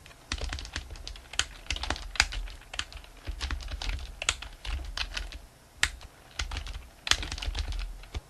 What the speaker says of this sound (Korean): 하나의 문장 입력이 끝난 뒤 바로 옆 칸으로 이동하기 위해서는 키보드의 탭키를 누릅니다.